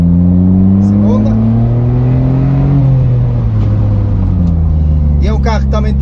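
A Smart Roadster with a Brabus kit, rated at 82 hp, pulls hard in second gear. Its loud engine note climbs steadily in pitch, then eases after a shift near the middle, close and continuous throughout.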